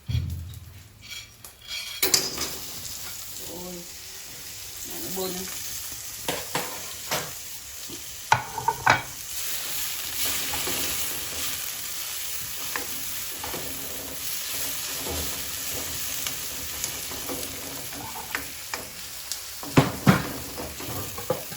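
Tomato fries in a pot for Jamaican brown stew chicken with a steady close sizzle, broken by repeated scraping, stirring and clinking of a spoon against the pot.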